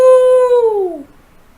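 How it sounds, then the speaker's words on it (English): A single wolf howl for an audiobook scene in a tower, one loud sustained tonal cry that slowly falls in pitch and fades away after about a second, heard alone without talk. "The howling resounded through the tower, and the group knew the wolf was close."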